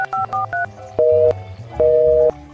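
Touch-tone keypad beeps on a mobile phone, a quick burst of short dual-tone presses followed by two longer sustained tones with a brief gap, loud and alone without voices.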